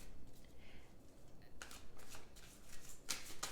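Tarot cards being shuffled up close, soft papery riffles and flutters in several quick bursts, the last ones crisper and louder, with no talking.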